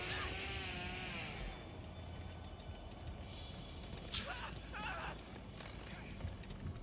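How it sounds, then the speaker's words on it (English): A chainsaw revs and whines in The Texas Chainsaw Massacre video game, loudest in the opening second and then continuing as a steady, fainter buzzing drone, with brief sharp noises and player voices now and then. "Brandon, I hear his chainsaw"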